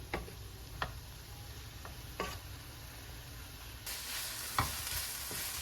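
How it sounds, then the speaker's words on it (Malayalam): Onions sautéing in a pan on a stove for Kerala-style theeyal, a soft steady sizzle with occasional sharp clicks and stirring taps, growing louder and brighter toward the end. "അപ്പോൾ നമ്മുടെ ഉള്ളി വഴന്നുകൊണ്ടിരിക്കുന്നു."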